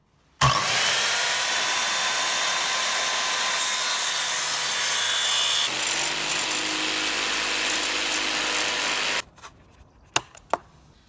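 Vinyl flooring trimmed inside a van conversion with a power tool, a loud continuous buzzing cut running for several seconds with a brief change partway, then stopping, followed by a few sharp clicks and knocks.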